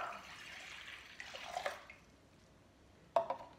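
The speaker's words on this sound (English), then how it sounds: "I'm gonna use 2 cups of lukewarm water" Two cups of lukewarm water for pizza dough poured in a gentle splashing stream that fades, then a brief sharp splash or clink near the end, quiet room otherwise.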